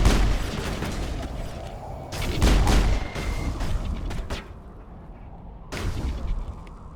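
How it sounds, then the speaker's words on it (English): Heavy booms and sharp bursts of combat in Mass Effect, including a point-blank grenade explosion, sound loud and close amid continuous gunfire, with a final blast near the end. "Point blank grenade"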